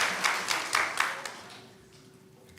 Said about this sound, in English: let's give a round of applause for both folks